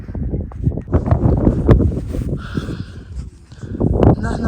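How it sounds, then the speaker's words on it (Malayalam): Strong wind near the summit of Mount Kilimanjaro buffets the microphone in rough gusts, mixed with a person speaking close by. "കാറ്റെന്ന് പറഞ്ഞാൽ ഒരു രക്ഷയില്ലാത്ത കാറ്റ്"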